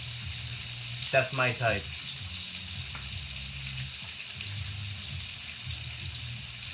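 Bacon frying in a pan on a stovetop, a steady soft sizzle and crackle running throughout, with a brief burst of speech near the start and some light kitchen clatter.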